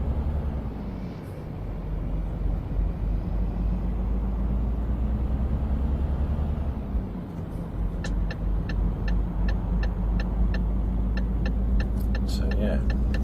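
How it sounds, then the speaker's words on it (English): Euro Truck Simulator 2 road traffic around a truck hauling 35t mining excavator tracks from Strasbourg to Liège: a steady low engine and road rumble throughout, with a rhythmic ticking like an indicator toward the end. "I have to say, it's quite a busy old road, certainly plenty of traffic around."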